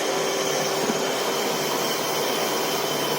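A lathe takes a facing cut on the face of a stepped workpiece, giving a steady, loud broadband machine whir with a constant tonal hum that runs unbroken and evenly throughout.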